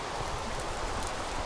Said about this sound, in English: Yeah, it's raining all over the place.